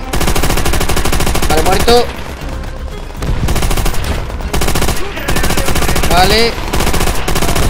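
A mounted machine gun turret in Call of Duty: World at War fires long, loud, rapid bursts with short pauses, close and dominant, while someone speaks briefly between volleys.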